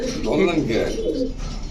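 A pigeon coos close by in a short, low, throaty burst at a pigeon market, with a faint murmur of background noise.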